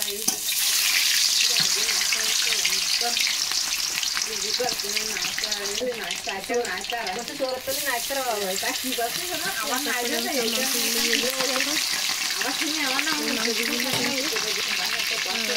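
Chicken pieces frying in hot oil, a loud steady sizzle lasting throughout, with a voice talking over it.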